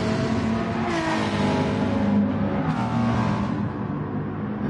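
Several race cars in a video game race roar together in a dense, steady engine wash, pitches shifting as they brake and accelerate, with no talking.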